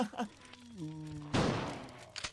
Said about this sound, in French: On entend des coups de feu.